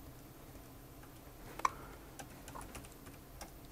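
Keys tap softly on a computer keyboard, typing into a serial terminal, in a few faint, scattered clicks with one sharper tap, over a quiet background hum.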